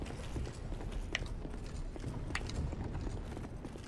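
Horse hooves in Dark Souls 2 clop steadily at a quick, even rhythm, fairly faint and muffled, with scattered light clacks over a low background rumble.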